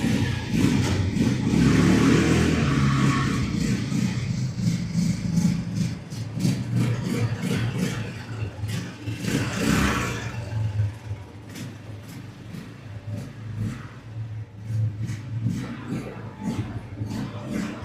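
A delivery vehicle's engine arrives, a loud mid-pitched engine that revs up early, then drops toward a rougher idle, with clatter and faint voices in the background.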